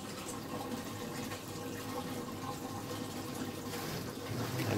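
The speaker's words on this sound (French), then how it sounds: "La voici en marche. Je vous montre d'un peu plus près le système de rideau d'eau." Water curtain enamelling booth running, a steady broadband wash of falling water that stays constant and fairly loud throughout, with a slight swell toward the end and no talk.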